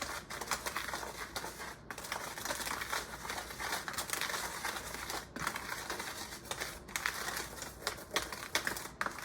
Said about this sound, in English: We're going to whisk this all together in the bowl